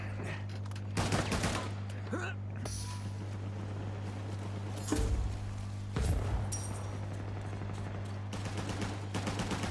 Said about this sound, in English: Who are you shooting at?